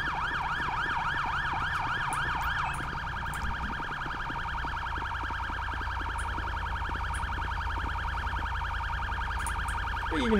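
An ambulance siren in GTA V with the LSPDFR police mod wails in rising and falling sweeps, then switches to a steady drone over a constant engine and road hum, loud and close, with no voices.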